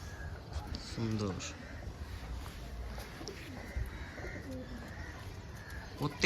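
Old-line Madras pigeons coo softly in a loft, low rolling calls repeating near and far under a steady murmur of background noise.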